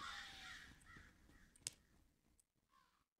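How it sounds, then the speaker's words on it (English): Several crow caws ring out over a quiet, dark nighttime ambience in the video game In Silence, spaced irregularly, with a sharp click near the middle and a brief silence near the end. "What are their crows doing out here at night like this"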